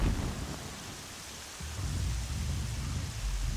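Heavy rain hisses steadily while a low, deep rumble of thunder rolls through and swells in the video game Horizon Zero Dawn, with no voices.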